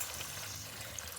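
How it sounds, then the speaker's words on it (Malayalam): Water poured into upma in a cooking pot, a steady soft trickling stream running for about a second, close and moderately quiet with no talk. "ഇതിനകത്ത് വെള്ളം ചേർക്കുകയാണ്."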